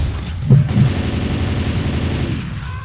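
Rapid gunfire in Left 4 Dead 2 as players shoot at zombies in a realism versus match, a loud burst of machine-gun shots with a sustained rattling stream up close.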